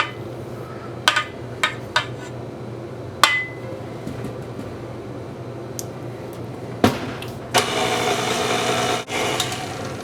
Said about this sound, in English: Get your chocolate in there, and we're going to mix this up.